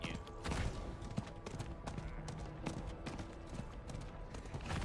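A horse gallops in the Diablo 4 video game, with quick rhythmic hoof clip-clops over a dense game soundscape, fairly near and steady throughout.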